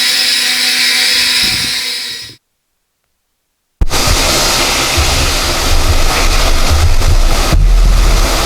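Water rushes and hisses as it rinses a concrete garage floor, loud and steady, broken by a short stretch of silence before the spray resumes.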